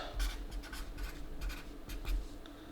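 Pen tip scratching across a PSA submission card sleeve while writing, a close, soft series of short strokes with brief pauses between them.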